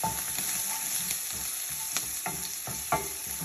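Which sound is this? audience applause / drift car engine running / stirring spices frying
stirring spices frying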